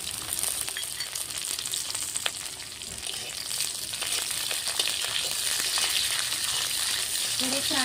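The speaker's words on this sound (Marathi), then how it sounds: "थोडे फ्राय करून घेऊया।" Carrots and bell pepper frying in a pan for a quick cabbage salad, a steady bright sizzle that holds evenly throughout, with occasional stirring scrapes near the end.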